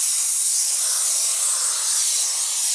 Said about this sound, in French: Et en fait si vous cliquez 3 fois, 1, 2, 3, ben ça fait de la vapeur plus forte